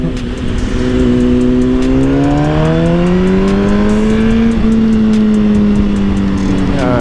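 A BMW S1000RR sport motorcycle engine drones loudly up close, its pitch climbing as it accelerates, then holding a steady whine while riding.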